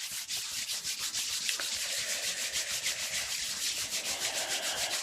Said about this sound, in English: bring your hands together and just rubbing them